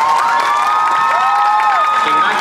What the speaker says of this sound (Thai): อยากให้ทุกคนปรบมือเป็นกำลังใจให้น้องหน่อยนะ